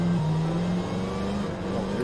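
Steady engine drone from a murdered-out 1930 Bentley swapped to a 1000HP V8 in Forza Horizon 5, holding a near-constant pitch with a slight dip, close and moderately loud with no talking.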